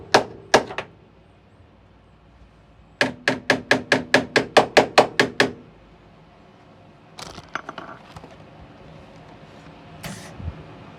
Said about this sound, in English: Right, let's just hammer that down.